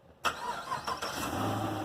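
A Chevrolet Camaro 2SS LS3 V8 engine cranks and fires up after a brief silence, then settles into a steady, rough idle close by.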